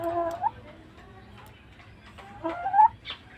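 A chicken clucks in short bursts, with a loud squawking call near the start and another near the end, close by over a quiet background; no talking.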